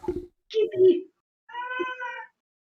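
A cat gives two loud, close meows, a short one and then a longer drawn-out call, after a brief burst of voice.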